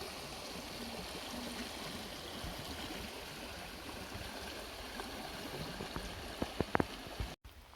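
A creek in Chickasaw National Recreation Area, Oklahoma, flows with a steady, soft rushing and trickling, fairly quiet and continuous, with a few light knocks near the end.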